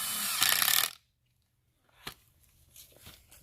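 A power tool drives screws into a board while a backyard pole-barn batting cage is built, a loud close whir that stops abruptly, followed by quiet handling clicks and knocks.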